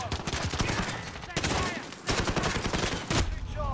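Pistol fire from the game Call of Duty Modern Warfare comes as loud, rapid, overlapping gunshot bursts that pour on almost nonstop, with only brief dips.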